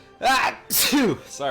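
A person sneezes loudly at a tabletop role-playing session, with a sharp burst that is followed by a breathy exhale and brief muttered talk.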